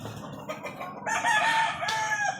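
A rooster crows loudly among a flock of chickens, the long cock-a-doodle-doo rising over a background of clucking and farmyard noise, close and clear.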